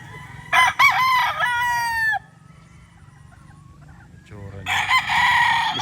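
A Boston Millionaire gamefowl rooster crows loudly nearby, two long harmonic crows separated by quieter clucking and background farm noise.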